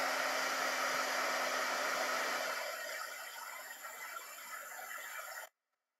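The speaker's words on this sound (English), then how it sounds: "Just use a little bit of heat from a heat tool and get your labels off really" A heat gun blows hot air onto wine bottle labels to loosen the glue, a steady close roaring hiss that eases slightly before cutting off abruptly near the end.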